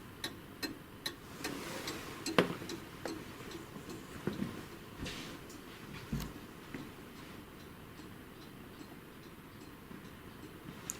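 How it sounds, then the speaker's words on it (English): A grandfather clock ticks faintly at night inside Milntown house on the Isle of Man, with sharp, sparse ticks over a quiet room hush. "Just like the grandfather clock."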